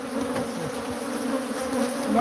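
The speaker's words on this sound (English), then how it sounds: "these are killer bees. They're all Africanized bees." A swarm of Africanized killer bees buzzes continuously and loudly at close range, a dense steady drone that swells slightly toward the end, with no talk over it.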